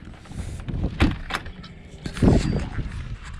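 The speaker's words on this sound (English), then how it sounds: "The door opens, of course," A door on a DIY cargo-trailer camper opening, with clunky latch and hinge knocks and a louder thump near the end, close by and with no talk.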